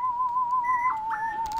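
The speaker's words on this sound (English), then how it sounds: "I did this little hook synth trap whistle." A sustained trap synth whistle plays a short melodic hook, holding one pitch and then dipping slightly, with a faint beat ticking softly underneath.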